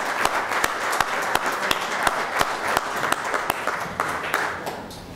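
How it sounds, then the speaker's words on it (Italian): Clapping from an audience in Soveria Mannelli welcomes Claudio Lotito: steady, moderately loud applause with distinct individual claps standing out at a regular pulse throughout. "con un caloroso applauso."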